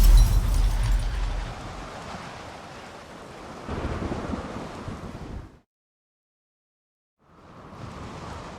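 Storm wind and crashing waves in The Witcher 3 video game, a loud gusting roar with heavy low rumble that eases, then cuts to silence before quieter wind returns.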